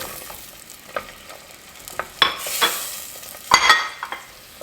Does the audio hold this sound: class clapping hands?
no